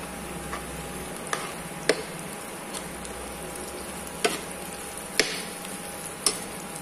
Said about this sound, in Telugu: ఇప్పుడు కొద్దిగా అల్లం వెల్లుల్లి పేస్ట్ వేసేసుకున్నాం, అది కూడా ఫ్రై అవ్వాలి.